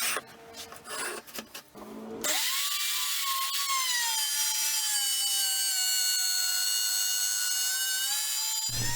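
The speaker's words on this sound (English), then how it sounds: "I made a couple of passes with the router just dropping the depth" Wood router cutting a rebate into a workpiece: a loud, steady high-pitched whine with a slight pitch dip as the bit bites in, following a few seconds of shuffling and handling noises, running continuously to the end.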